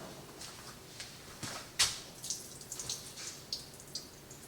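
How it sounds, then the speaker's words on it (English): Excess water poured out of a jar of fermenting radishes fitted with a pickle-puck weight, giving faint splashes and drips with a sharper clink or splash partway through, fairly quiet and with no talking. "Had to pour some out"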